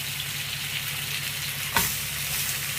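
Smoked bacon slices fry in a pan with a steady broadband sizzle, joined by a single brief clatter from the pan near the end.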